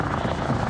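An air ambulance helicopter overhead gives a steady, throbbing rotor drone with a rough buzzing texture, fairly loud and continuous through a brief moment.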